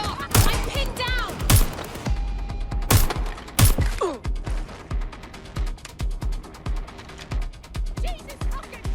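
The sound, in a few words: gunfire in the video game Watch Dogs: Legion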